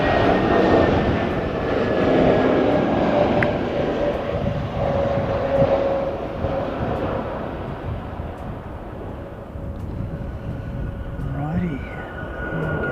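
A United Boeing 787-9 in a special SAF livery approaches on an unusual flight profile, its engine roar building steadily and holding loud and broad for the whole stretch, with a whining tone sliding through near the end.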